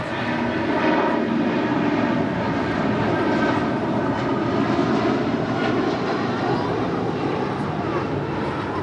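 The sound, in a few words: American airliner taking off from runway 25 right at LAX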